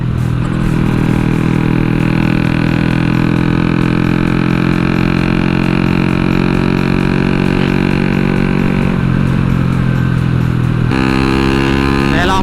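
A motorcycle engine roars loud and close at about 80 to 100 km/h, a sustained harsh, ear-piercing exhaust drone that shifts pitch near the end as the revs change.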